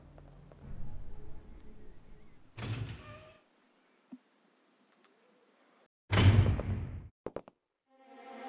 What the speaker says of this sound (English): we're going to head on through the rusted double doors here